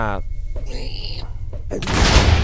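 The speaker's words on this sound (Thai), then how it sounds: "โอ้โหระเบิดบึ้ม" A blocky explosion booms in the Minecraft video game during a Lucky Block session, arriving as a sudden loud noisy burst after a stretch of game sounds and tones.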